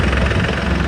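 Tractor engine running close by, hauling a trolley of farmyard manure on a farm, a steady low rumbling idle with constant vibration throughout.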